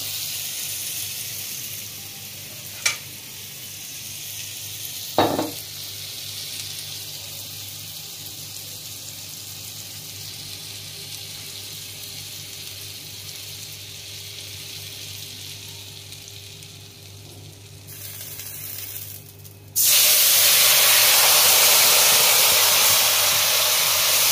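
Water poured into a hot pan of koi fish curry sizzles and hisses steadily, with a couple of sharp pops early on and a much louder, brighter burst of sizzling near the end.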